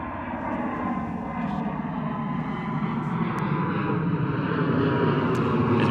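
A Vueling Airbus A320neo climbs out from London Gatwick with its gear retracting, a steady, loud broadband engine roar that swells gradually over several seconds.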